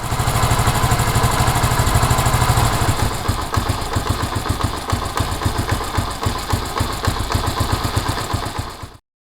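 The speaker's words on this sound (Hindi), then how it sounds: "जब इंजन आरपीएम ड्रॉप होता है तो इस तरह दिखता और सुनाई देता है।" A Honda CD70 motorcycle engine idles loudly and close, its steady drone slipping into slower, uneven chugging pulses as the revs drop during carburetor idle mixture adjustment, then cutting off abruptly.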